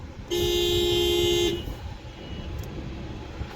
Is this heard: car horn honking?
yes